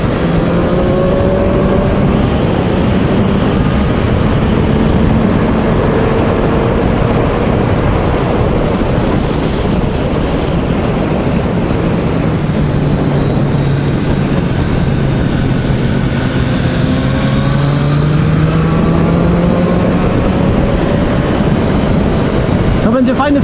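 A Kawasaki ER6F motorcycle with a Z650-type parallel-twin engine runs on the Tor Poznań race track, its engine droning steadily throughout with rising and falling revs, loud and close.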